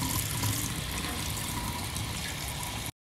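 Tap water runs steadily into a bowl while rice is rinsed, a close, continuous splashing hiss that stops abruptly near the end.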